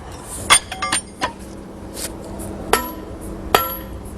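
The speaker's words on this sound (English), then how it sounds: "it's called delving, and using plug and feathers" A hammer strikes metal plug and feathers driven into stone to split it, traditional delving work: sharp ringing metallic taps in an irregular series of about six, close and clear with no talk.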